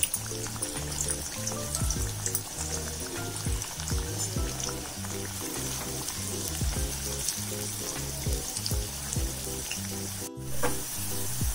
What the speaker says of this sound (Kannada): ಇವಾಗ ಒಂದು 1/4 kg ಈರುಳ್ಳಿ ಉದ್ದಕ್ಕೆ ಹೆಚ್ಕೊಂಡಿರೋದನ್ನ ಕರ್ಕೋಬೇಕು.